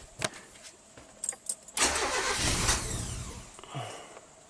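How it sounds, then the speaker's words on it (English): A 1997 Kia Sportage 4x4 engine cranks and catches after a few clicks and jingles, flaring loudly on startup, then settling into a lower, steady idle close by. "let's fire it up, let it stabilize"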